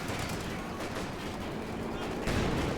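Light machine gun fire in a competitive 4 vs 4 video game match, rapid bursts of crackling shots under talk, with a louder burst near the end.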